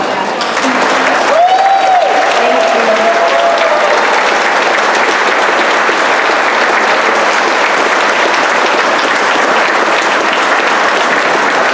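A dinner crowd gives standing applause for military veterans, loud, dense clapping that runs steadily for many seconds, with a brief cheer or voice rising over it near the start.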